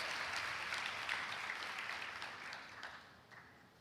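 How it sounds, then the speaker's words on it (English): Conference audience applauding after a call to welcome university guests and sponsors, a dense wash of many hands clapping that holds steady and then slowly thins and fades toward the end. "We need a big round of applause for all our university guests, sponsors."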